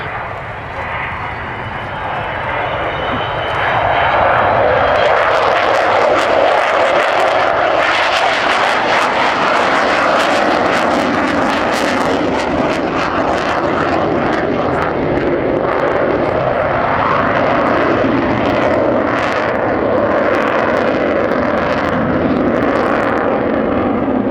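The Avro Vulcan XH558 jet bomber roars overhead at an air display in Cosford, a loud, sustained broadband engine rumble that swells after a few seconds and holds steady throughout.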